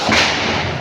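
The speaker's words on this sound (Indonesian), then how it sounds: "Dengan cara tepuknya tepuk ganda, tepuk tunggal ya." A classroom of students gives a single hand clap in unison during a lesson: one sharp, loud, near crack with a short fading tail, and no talking.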